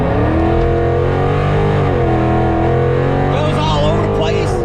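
A cammed 5.7-litre Dodge Challenger R/T engine revs hard and accelerates, a loud, continuous rising and falling engine roar with a choppy, harmonic-rich tone filling the whole clip.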